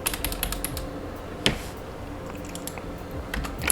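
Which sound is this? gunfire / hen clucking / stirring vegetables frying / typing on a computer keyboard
typing on a computer keyboard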